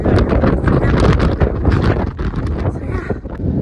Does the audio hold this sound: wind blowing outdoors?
yes